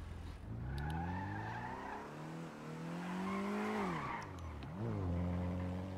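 A car in GTA spins and skids, its engine revving and rising and falling in pitch while tires screech, close and loud with no talking.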